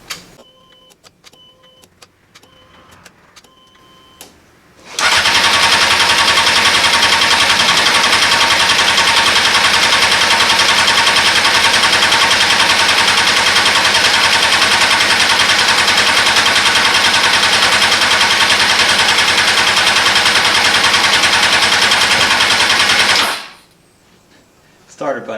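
An F4i stunt motorcycle engine cranks a few times, then catches and runs at a loud, steady roar for nearly twenty seconds before cutting off abruptly.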